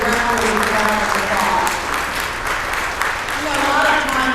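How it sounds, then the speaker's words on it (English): Applause rises from the crowd at an annual meeting for Emily and the board, steady rippling clapping heard up close, with voices murmuring and talking underneath. "Let's give her another round of applause, and let's give the board a round of applause"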